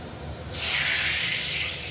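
Bay leaves hit hot oil in a wok with a sudden loud sizzling hiss that starts partway through and holds steady, close and alone.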